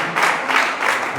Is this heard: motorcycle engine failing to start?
no